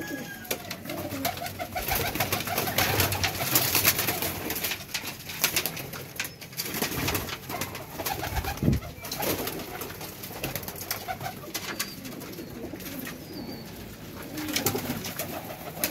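Pigeons coo repeatedly at close range, soft rounded calls over a busy outdoor background with faint rustling and occasional wing flaps.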